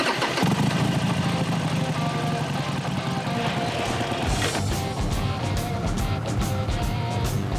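A motorcycle on a French country road to Villandry revs up and pulls away, its engine note rising over steady road rumble, with a couple of sharp gear-change bursts toward the end and no talk.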